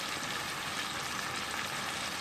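Chicken fries with mixed spices in a pan, giving a steady, dense sizzle that holds at an even level throughout, with no voices.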